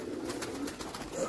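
Soft, low coos from breeder pigeons on a rooftop rolling on over a steady hiss of background noise, fairly close, with no voices.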